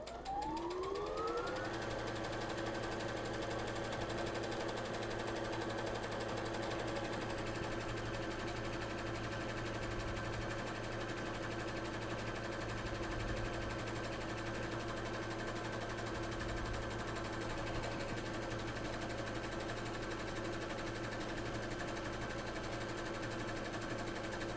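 Sewing machine stitching a buttonhole in knit fabric with embroidery thread and a topstitch needle using an automatic buttonhole foot, a steady whirring motor hum that rises in pitch at the start and then holds constant, alone.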